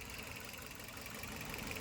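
A vehicle engine idles steadily after starting, a continuous mid-pitched rumble with a faint knocking texture, close by and alone without talk.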